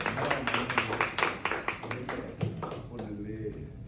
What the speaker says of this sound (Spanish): recibamos a nuestro pastor con un fuerte aplauso